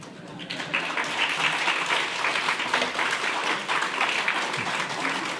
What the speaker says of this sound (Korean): 박수를 치는 모습이.